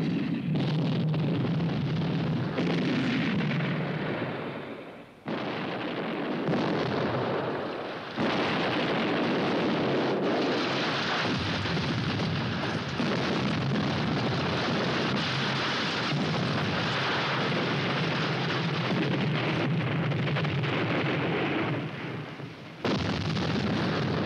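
Artillery shells from a three-round fire mission exploding on a target of T-62 tanks, heavy rumbling blasts and dense booming roar continuing at a distance, with brief dips between impacts.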